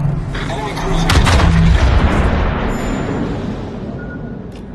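Heavy naval guns of a warship in a sea battle game fire at an enemy cruiser, loud booming salvos with rumbling blasts that swell then decay into a fading roar.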